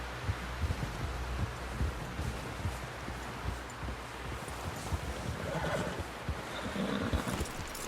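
A horse in the video game Red Dead Redemption 2 whinnies and clip-clops through rustling ground, its hooves thudding in an irregular walking rhythm at moderate distance with no talk.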